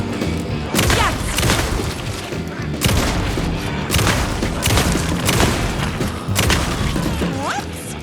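Gunfire in the video game Alan Wake rings out in repeated heavy, booming shots at a steady pace, loud and close, over a dense noisy background.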